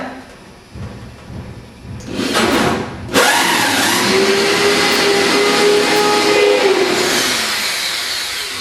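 A power drill drives screws into the lowest wheel arch tabs on a vehicle, with a few rattling clunks and then a loud, steady whirring drive that eases off toward the end.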